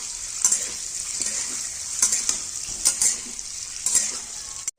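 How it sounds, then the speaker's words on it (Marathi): Masala with garam masala frying for egg curry in a pan, a bright continuous sizzle with repeated scraping stirs about every second, close and without voices. "याला लालसर होईपर्यंत आपण छान आता फ्राय करून घेणार आहोत"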